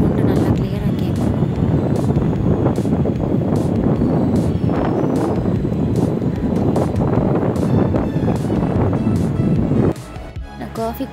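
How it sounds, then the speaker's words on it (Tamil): Strong, terrifying wind blows outdoors, a steady loud roar buffeting the microphone for most of the stretch before easing near the end. "நல்ல பயங்கரமான காற்று, இந்த வீடியோலேயே உங்களுக்கு கேட்கும் அந்த சவுண்டு நல்லா கிளியராக கேட்கும்."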